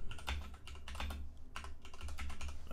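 A password being typed on a computer keyboard: quick, light key clicks in short bursts with brief pauses, close and quiet against a low background hum.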